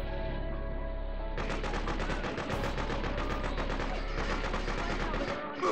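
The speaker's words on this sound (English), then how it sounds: "We start shooting." Automatic gunfire roars continuously and loudly in the video game Freedom Fighters, a dense fusillade of rapid shots that fills nearly the whole stretch before cutting off abruptly.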